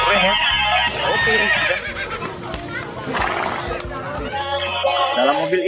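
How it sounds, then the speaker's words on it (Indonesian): A horse whinnies amid lively background noise, with voices chattering nearby over a busy, loud mix. "Wah, wadidaw, ada kuda satu teman-teman."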